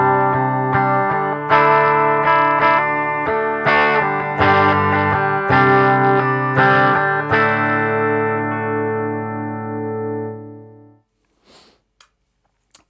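Clean electric guitar tones from an Epiphone Les Paul Special with P90 pickups, played through a Princeton amp with no reverb: a series of plucked notes and chords ringing dry, then fading out near the end with a few faint clicks.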